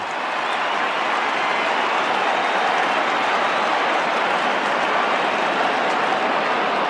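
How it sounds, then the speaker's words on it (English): Large crowd at Perth Stadium cheering during a West Coast versus Fremantle AFL match, a continuous broad roar holding steady and loud for several seconds, without distinct voices standing out. "Just listen to the crowd here at Perth Stadium."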